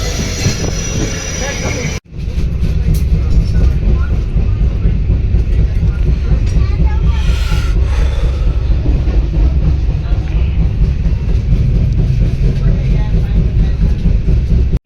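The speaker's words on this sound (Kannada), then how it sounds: "ಊಟ ಮಾಡ್ತಿದ್ದೆ, ಟ್ರೈನ್ ಸಡನ್ನಾಗಿ ಮೂವ್ ಆಗ್ಬಿಡ್ತು" A Bengaluru-to-Goa passenger train rolls along, heard from inside the carriage as a loud, steady rumble with rhythmic wheel clatter and occasional squeals, after a brief quieter moment at the start, with people talking.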